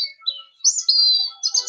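A small bird chirps in short, high, clear calls, one note sliding into a longer sustained whistle, heard close and alone against a silent background.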